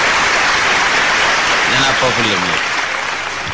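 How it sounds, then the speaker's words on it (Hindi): Audience applause at a mushaira for a humorous poet, a dense steady clatter of clapping filling the whole stretch, with a voice speaking over it partway through. "तालियां बजा दीजिए इनके लिए।"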